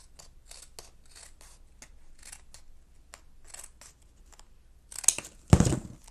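Scissors snipping paper for a paper tile craft, a series of quick, light cuts close up at an irregular rhythm, followed by louder crinkling and handling of the paper at the end.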